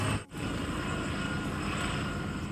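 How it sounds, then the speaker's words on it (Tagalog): Steady broadband engine roar of a helicopter flying overhead above a home garden, loud and continuous throughout with a brief dip near the start, no talking. "May helicopter na dumaan."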